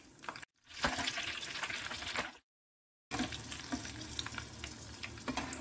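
Halved green chilies fry in hot oil for bottle gourd pakoras, giving a steady bubbling sizzle broken by a brief silent gap, then resuming with small pops and crackles, close and moderately loud.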